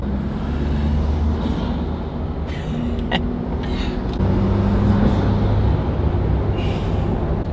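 Ford Bronco with a K&N intake running on a dyno, its engine droning loud and steady with turbo whooshes and hissing boost bursts over the top, close by and without talk.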